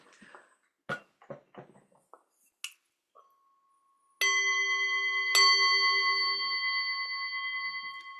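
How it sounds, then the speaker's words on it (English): A meditation gong is struck twice, a second apart. Each strike rings out loud and bright, and the tone holds and slowly fades. A few soft taps and clicks come before it. "let's put the gong if you can hear it"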